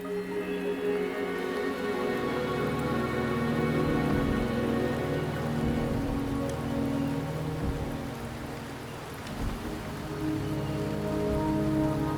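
Steady rain pours in the video game Wuthering Waves, a dense even hiss of drops pattering on surfaces that holds at a constant level throughout, with no voices.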